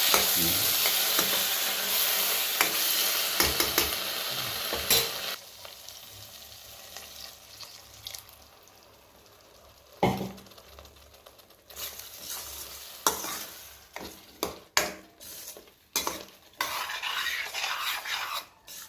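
Scraping and sizzling as a spoon stirs thick Chettinad fish curry in a hot pan, with bursts of frying crackle and irregular clinks of metal against the pan.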